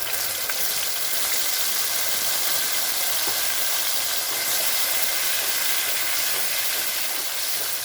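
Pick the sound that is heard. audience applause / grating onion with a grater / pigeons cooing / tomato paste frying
tomato paste frying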